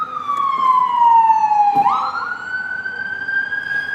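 An emergency vehicle siren wails with a falling pitch, then abruptly switches to a higher, steady tone, loud and close over a low rumble of traffic on Woodruff Road.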